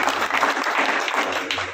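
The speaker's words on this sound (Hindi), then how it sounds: "इसके लिए एक जोरदार तालियां।" A crowd at a BJP political gathering breaks into hearty applause for candidate Chaudhary Balwant Singh, a loud dense clatter of many hands close by, lasting the whole brief moment.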